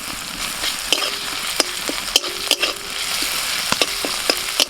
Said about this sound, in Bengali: পেঁয়াজটা একটু ভেজে নিয়ে দিয়ে দিচ্ছি থেতো করা আদা, থেতো করা কাঁচা লঙ্কা আর থেতো করা রসুন।